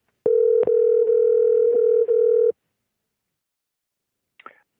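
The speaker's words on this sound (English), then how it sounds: "Calling Jake on a cell phone today." A steady telephone dial tone after a dropped cell phone call, loud and close, running unbroken for about two seconds with small clicks, then silence and a brief faint click near the end.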